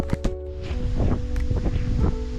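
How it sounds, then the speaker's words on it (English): Gusty wind buffeting outdoors with a low rumble, a steady hum and some scattered clunks and footsteps close by. "It's pretty windy outside here."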